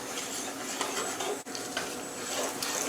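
Whole spices and ground masala frying in a pan for matar pulao, a steady close sizzle with scraping stirs throughout and a brief dip in the middle.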